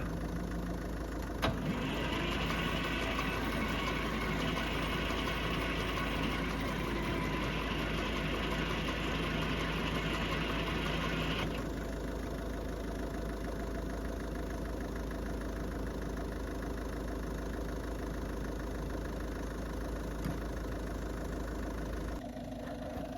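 A 1950s Fordson Major tractor engine cranks over steadily without catching, a loud, continuous mechanical churning that drops slightly in intensity partway through and carries on with no talking.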